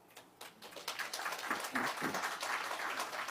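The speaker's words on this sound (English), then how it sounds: "thank you for applauding yourselves." An audience applauds, starting with a few sparse claps and building into sustained clapping from many hands that stays fairly soft and even as it continues.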